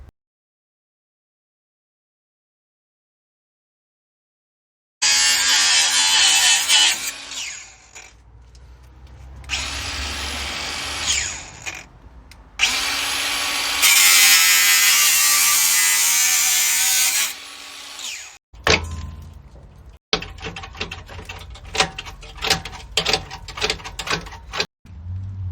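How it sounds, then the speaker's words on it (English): An angle grinder cuts away a rusty section on a VW Golf, starting abruptly after silence with loud high whining bursts, stopping and restarting several times, then a sustained shrieking cut followed by choppy rattling passes. "So I've got my grinder"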